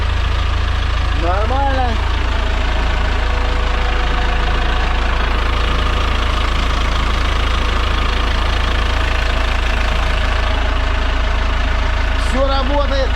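A PAZ 32053 bus diesel engine drones loud and steady at idle throughout, with a brief mechanical squeal near the start and again near the end and a short spoken word over it.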